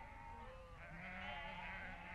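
Crossbred half Friesian, half Dorset sheep on a grazing farm west of Bashaw, Alberta, bleating steadily at moderate distance over a continuous outdoor background, with a few wavering calls and no talk.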